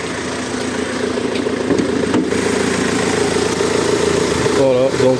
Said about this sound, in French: il n'y a aucun bruit suspect, le moteur fonctionne très bien